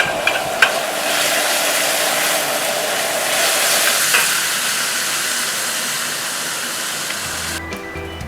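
Beef and scallion stir-fry in a wok over high heat makes a loud, continuous roaring sizzle that stays close throughout, with occasional clanks from the utensil and a clatter near the end.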